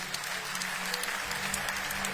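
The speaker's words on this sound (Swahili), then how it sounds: "muwapigie makofi." A church congregation applauding at a pastor's ordination, a short steady wash of many hands clapping together at moderate loudness.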